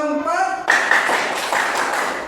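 Group hand clapping in a counted classroom pattern, a brief tone and voice followed by a burst of many hands clapping together, loud and fairly close.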